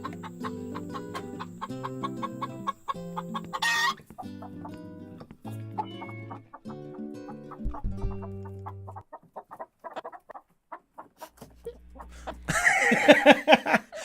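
Chickens on a homestead coop cluck repeatedly and fairly close, mixed with other steady tonal sounds, with a louder burst of clucking near the end.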